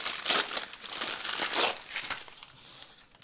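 Old paper for card making is crumpled close up in a few crinkly bursts, rustling on and off for a few seconds with no voices.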